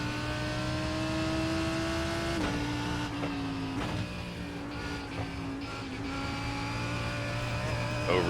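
A GT3 race car engine in iRacing at Summit Point drones loudly under throttle, its pitch holding steady then dipping and rising again as the revs shift, with a few brief shift-like breaks and no talk.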